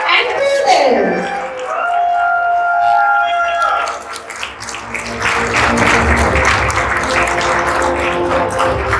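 An audience applauds at a school graduation ceremony for The Millennium School Surat. A voice and some tonal sound come first, then dense, sustained clapping from a large crowd swells and fills the hall.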